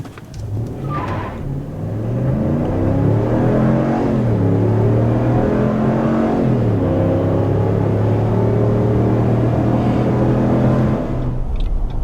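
A 2023 RAM 1500 pickup with the 5.7L HEMI V8, a 5,600-pound truck, accelerating hard from 0 to 60: a deep engine roar climbs through several rising gear sweeps, loud and close, with no talking.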